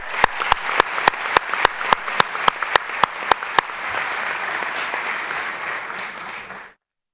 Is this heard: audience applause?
yes